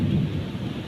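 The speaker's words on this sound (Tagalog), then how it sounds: "sobrang kulog at kidlat." Heavy thunder rumbles continuously during a night thunderstorm, a loud, sustained low roar with rain hissing beneath it and no voices.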